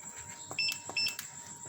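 Electronic beeps from a pressure cooker as it is switched on, a few short, faint tones in quick succession with no talk over them.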